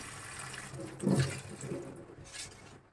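Tap water runs steadily into a basin while fish are washed by hand, a continuous close splashing rush with brief sloshes and small knocks, no talking.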